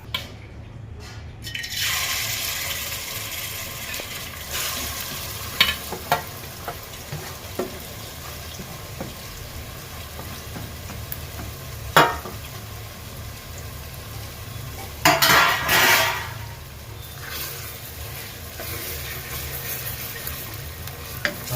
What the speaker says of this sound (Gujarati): હળદર નાખ્યા પછી આવી રીતે તવિથાથી કન્ટિન્યુ હલાવતું રહેવાનું